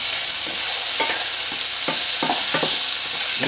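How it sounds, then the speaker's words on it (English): Chicken chunks searing in a hot pan while being stirred around, with a steady loud sizzle and repeated scraping strokes of the utensil at irregular intervals, close up and with no talking. "Stirring it around, trying to get it browned up."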